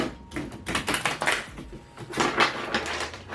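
Rapid, irregular clicking and fluttering of a Sky and Thread tarot deck being riffle shuffled, in quick bursts with short pauses, close up and without talk.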